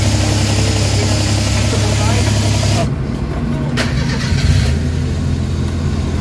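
A surplus Suzuki DA engine with a high and rough idle, no fault code, runs steadily and loudly close by, its drone shifting partway through, with talk over it.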